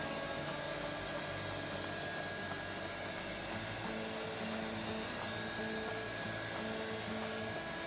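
A hot air blower runs continuously while drying a printed motorcycle temporary plate, a steady loud whooshing roar with a faint whine, no voices over it.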